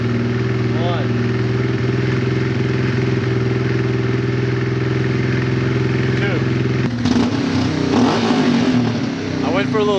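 A Honda Transalp motorcycle engine runs steadily during a test ride, holding a droning tone before a rougher rev and clatter near the end, loud and close throughout.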